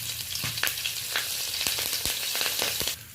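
Three or four halved green chillies and nigella seeds fry in hot oil in a steady, close sizzle with scattered sharp pops and crackles throughout.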